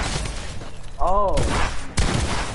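Video game gunfire rattles in bursts through a busy mix, with a sharp blast near the end and a voice talking over it.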